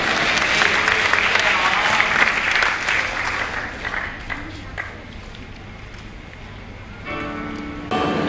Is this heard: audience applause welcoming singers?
yes